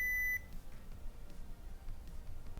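A blood pressure monitor gives a single short electronic beep at the start as the reading completes, followed by faint room noise.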